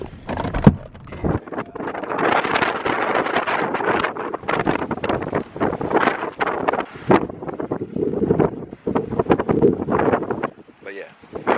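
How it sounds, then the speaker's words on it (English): Strong wind gusts buffet the microphone outside at a campground, heavy rumbling roars that rise and fall in bursts throughout, with brief knocks and rattles mixed in. "it is so windy outside. It's been windy for like 3 days in a row."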